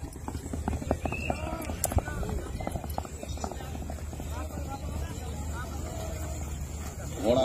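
Horse hooves clip-clop steadily at a horse event in Okara district, Pakistan, mixed with a crowd and an announcer's voice talking over them throughout.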